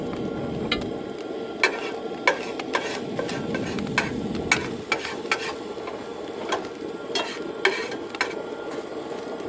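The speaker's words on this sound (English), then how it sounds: "Now I'm going to go ahead and cook up some pepperoni and eggs" Pepperoni and eggs frying in a pan at a camp stove while overlanding, a steady close sizzle with irregular sharp clicks and scrapes of a utensil against the pan, no voices.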